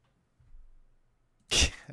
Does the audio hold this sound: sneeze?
yes